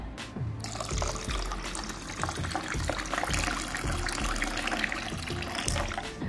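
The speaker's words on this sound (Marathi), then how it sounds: "आता याच्यामध्ये पाणी ऍड करूया" Water pours steadily into a glass of fennel sharbat with lemon and ice, a close continuous splashing fill that runs throughout.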